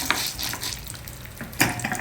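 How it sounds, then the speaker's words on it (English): Urad dal frying in a little hot oil in a pan, a close crackling sizzle with stirring scrapes and a couple of sharper clinks of a utensil against the pan. "take about 2 teaspoons of oil in a pan and allow it to heat. Add 2 tablespoons of Urad dal."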